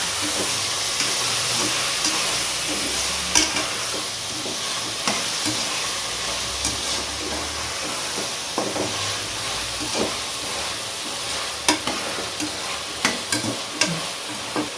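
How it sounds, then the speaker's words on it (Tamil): Brinjal and potato sauté in hot oil for a tamarind kulambu, a constant hissing sizzle broken by repeated scraping stirs that grow more frequent toward the end. "இது கொஞ்சம் நேரம் எண்ணெயில் வதக்கு முன்னாடி"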